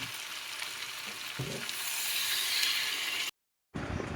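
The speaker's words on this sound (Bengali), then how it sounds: "আমার মাংসটা কষানো হয়ে গেল, তেল ছেড়ে দিয়েছি, এবার জল দিয়েছি" Chicken curry sizzles and fries loudly in a pan just after water is added, a steady broadband hiss that swells midway, cuts out briefly, then resumes.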